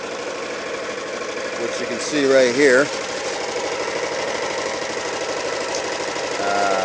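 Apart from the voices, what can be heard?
6.5 horsepower engine running a 2500 watt inverter generator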